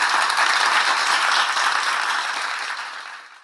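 Audience applause at a televised stage show, a dense wash of clapping that stays loud and steady before tapering off toward the end, with no voices over it.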